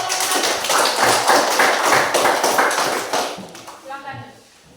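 A school class claps hands together during a coding lesson, a loud, rhythmic burst of many claps that gradually thins and fades out near the end.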